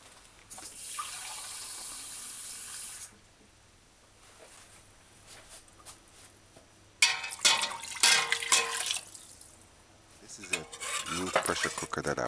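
Four cups of water poured into a pot of chicken gizzard curry, a steady splashing hiss for a few seconds, followed later by clinks of a utensil against the pot while stirring.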